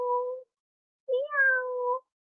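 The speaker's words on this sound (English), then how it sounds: "It's a cat." A cat meows twice, a short clear call followed after a pause by a longer, rising and falling meow, close and alone against silence.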